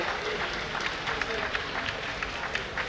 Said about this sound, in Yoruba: ẹ bá mi pàtẹ́wọ́ fún ìyá Olúborí